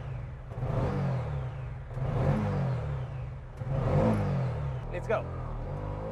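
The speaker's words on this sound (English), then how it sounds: "Let's see how fast it can go through the gears on this sequential gearbox." A Bajaj Qute quadricycle with a sequential gearbox accelerates through its gears, the small engine rising in pitch three times with brief drops at each shift, as a voice speaks briefly over it.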